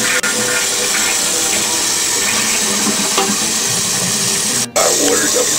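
Water steadily filling an old tank up toward the float bulb, a continuous broadband rushing and trickling on a low setting, close and fairly loud throughout, with a brief dropout near the end.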